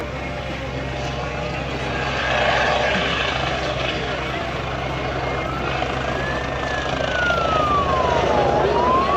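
A helicopter at an air show over Varaždin hovers and flies sideways, its rotor thudding loudly and continuously, while an announcer talks over it and a siren's wavering tone briefly joins near the end.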